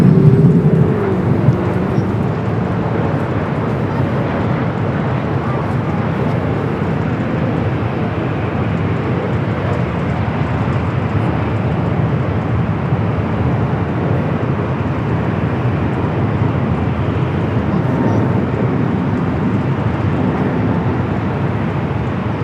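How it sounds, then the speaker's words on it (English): Boeing 737 MAX 8 arriving at LAX from SFO, a broad, steady jet roar that rumbles evenly through the whole stretch, loud and continuous, with no voices. "Next arrival is a flight coming from SFO, a 737 MAX 8."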